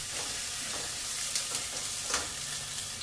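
Ginger added to garlic frying in a pan, a steady broadband sizzle close up with a few soft scrapes of stirring.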